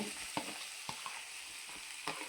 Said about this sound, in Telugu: ఉల్లిపాయలు దోరగా ఏగనివ్వాలి